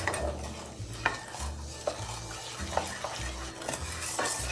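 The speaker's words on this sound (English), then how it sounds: "We want to mix this all together" A wooden spoon stirs sugar and corn syrup in a pot with repeated scraping strokes and occasional knocks against the side, steady and close, no speech.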